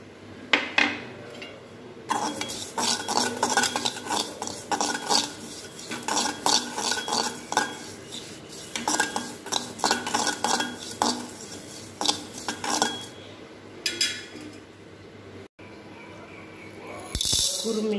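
Cumin seeds being stirred and roasted in a pan, with a steady run of scraping and clinking spoon strokes against the metal that go on for most of the stretch before a brief pause.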